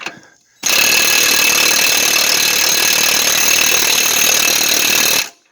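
A Craftsman cordless impact wrench cuts in after a brief quiet moment and runs continuously for about four and a half seconds with a loud, dense, buzzing hammer-whir, then stops abruptly.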